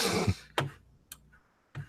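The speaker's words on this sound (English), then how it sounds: "I was blowing my nose" A person blows their nose close up in a few short, sharp, breathy bursts separated by brief quiet gaps.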